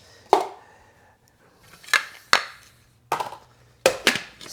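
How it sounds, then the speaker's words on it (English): A knife chopping jalapenos, ginger and shallots on a cutting board: five sharp, close chops in an uneven rhythm, each standing alone against near silence. "Start chopping."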